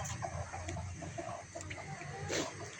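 Native free-range laying hens cluck softly and repeatedly at close range, short bursts of low clucking in a quiet farmyard with no talking.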